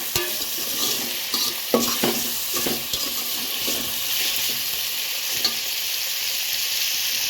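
Green chillies and tomatoes sauté for egg biryani in a hot pan, a soft, steady sizzle broken by the scrape and clink of a spoon stirring, close and without talk.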